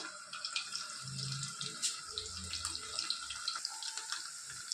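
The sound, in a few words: draining soaking water from dry fish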